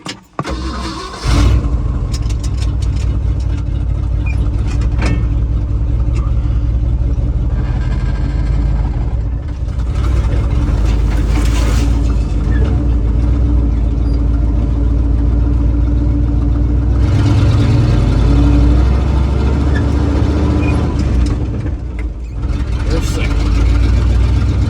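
A vehicle drives across a yard to cut a new driveway, its engine rumbling steadily and loud and close for most of the stretch, with a brief startup at the beginning and a voice talking over parts of it.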